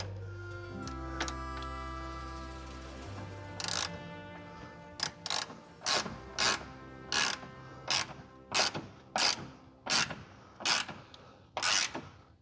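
Ratchet wrench tightening a bolt on a rubber body mount under a fiberglass Jeep CJ7 tub, a rapid run of metallic ratchet clicks giving way to a steady series of about ten evenly spaced, close-up pulls with clicking in between.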